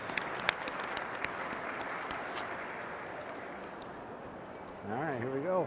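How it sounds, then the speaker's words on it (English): Audience applause for a panel at a Toyota STEM initiative event, steady dense clapping throughout with a voice briefly heard near the end. "help me give a big warm applause to our panel"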